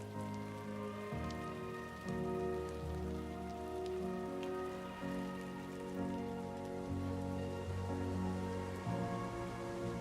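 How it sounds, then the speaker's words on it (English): Steady Timefall rain patters on surfaces in the video game Death Stranding, a dense, even hiss of drops with layered game tones droning underneath. "bring in Timefall Rain, but it's not Timefall because it's not fucking with you"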